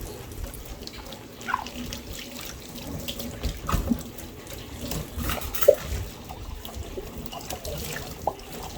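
Water from a kitchen sink tap runs in a soft, uneven stream with scattered splashes and clinks as eggplant is prepared for washing, fairly quiet and steady throughout.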